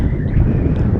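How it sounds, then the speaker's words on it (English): Wind buffets a microphone outdoors beside a flying tilt-rotor quadcopter, a constant loud rumbling roar with no break. "It is a little bit windy. We've got wind coming directly from that direction."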